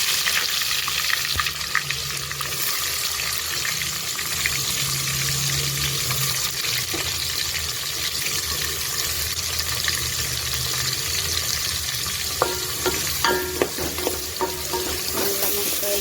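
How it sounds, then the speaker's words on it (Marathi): Onion fries in hot oil for a chicken tikka biryani, a continuous dense sizzle throughout, with a few light clinks and stirring knocks toward the end. "तेल गरम झालेलं आहे, त्याच्यामध्ये आपण कांदा घालणार आहोत."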